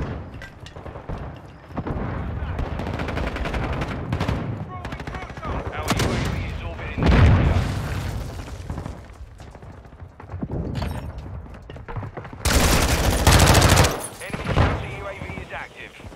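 A decoy grenade in Call of Duty Modern Warfare 2 sputters out fake gunfire in a multiplayer match. Loud, ragged bursts of rapid shots come and go, with heavy booms and sharp loud stretches mixed in.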